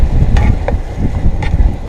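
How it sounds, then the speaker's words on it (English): Wind buffets the microphone outdoors in steady low rumbling gusts, with a few brief knocks and clicks, and no one speaking. "It's also windy out here"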